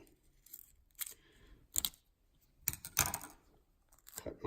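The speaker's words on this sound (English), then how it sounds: "Next thing I'm going to do is take my scissors" Scissors snip through a paper label with ink-transfer tape: several short, sharp crisp cuts spaced irregularly, close and fairly quiet, with faint handling rustle between them.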